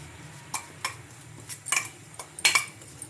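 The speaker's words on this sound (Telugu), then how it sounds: "ఇంకా ఇవన్నీ ఒకసారి స్పూన్ తోటి ఇలా బాగా కలుపుకుందాం" A spoon mixing carrots with masala in a bowl, producing irregular clinks and scrapes in quick clusters, close and moderately loud.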